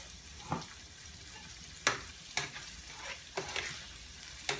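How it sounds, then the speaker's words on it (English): Tomatoes softening in a pan, a low steady sizzle broken by several sharp scrapes and stirs at irregular intervals, close up and fairly quiet with nobody speaking. "So we're gonna cook the tomatoes a little bit. Let them get softened"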